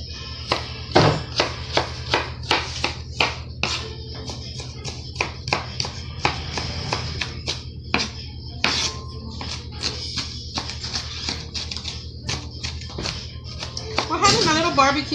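A knife chops a big onion on a board with quick, irregular taps, some in brief bursts, while someone talks over them now and then.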